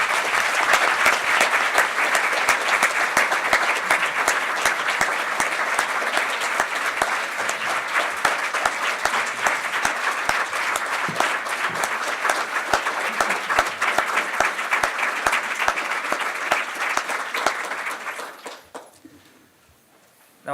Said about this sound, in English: please join me in giving a big round of applause and thank you to our wonderful panel.